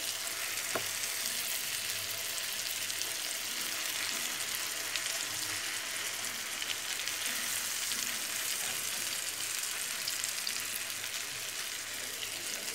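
Chicken pieces fry in butter in a pan with a soft, even sizzle and crackle that continues steadily and fairly quietly from start to finish, with no talking.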